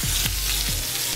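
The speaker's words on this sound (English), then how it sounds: "Let all those guys saute up really nicely." Mushrooms, celery, onions, carrots and cherry tomatoes sautéing in a pan, a dense, loud, continuous sizzle heard up close, with a couple of brief low bumps and no speech.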